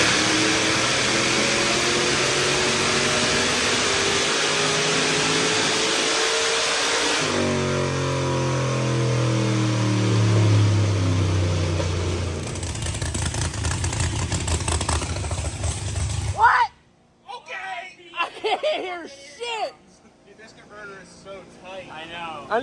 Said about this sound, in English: we got it strapped down, ready to make some pulls, so let's get to it.